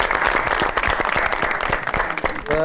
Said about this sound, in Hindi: बहुत सारी तालियों में वेलकम कहते हैं जी शरोर साहब को